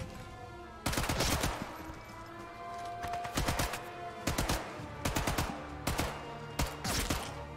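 A rifle in Sniper Elite 5 fires in short tapped bursts. Sharp, loud cracks come in quick clusters at irregular intervals over a quiet game background.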